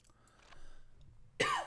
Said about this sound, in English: Sorry about the whole coughing and bit.